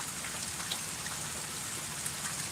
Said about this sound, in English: It is a rainy Monday morning.